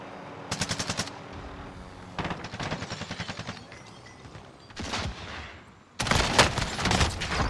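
Bursts of automatic gunfire from FFAR and SPR weapons in a first-person shooter game, several rapid strings of shots at varying distances, the last one loud and sustained.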